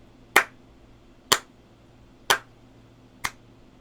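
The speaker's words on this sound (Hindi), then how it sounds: "हर ताली एक बीट को दर्शाती है।" Four sharp hand claps mark the beats of a taal in Indian classical music, evenly spaced about one second apart, crisp and close against a quiet background with no voices.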